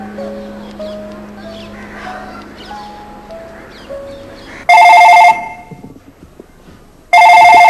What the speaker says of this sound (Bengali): হ্যাঁ, রিং হচ্ছে, কথা বলো